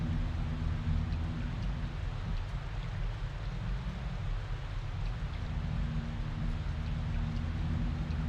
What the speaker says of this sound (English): now we have Acid Rain